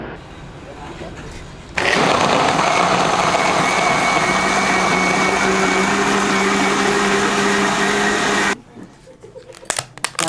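A blender grinds boiled meat for meatballs in a steady, loud whir lasting about seven seconds, starting abruptly and cutting off, with quieter handling noises after.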